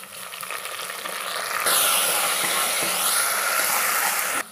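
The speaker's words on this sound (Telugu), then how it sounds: "ఇది పచ్చివాసన పోయిన దాకా ఫ్రై చేసుకోవాలండి" Green chillies, mint leaves, curry leaves and ginger-garlic paste fry in a pan for a mutton curry, giving a steady close sizzle that swells louder partway through and holds until it cuts off near the end.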